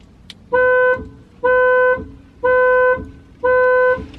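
A car alarm answers a key fob press with four loud, evenly spaced electronic chirps, each a short steady tone with brief quiet gaps between.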